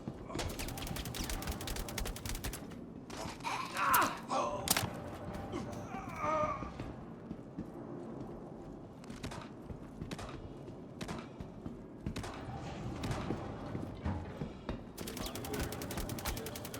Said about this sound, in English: At this point I'm firing from the hip, firing any way I can, just as long as I don't take any damage